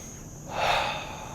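A single audible breath, a soft airy inhale or exhale rising and fading over about a second, close and quiet with no talking.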